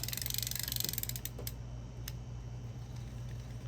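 A vintage Penn Spinfisher 712 spinning reel is rotated by hand and gives off a rapid, even ratcheting click, close and crisp at first, then a fainter mechanical ticking over a steady low hum.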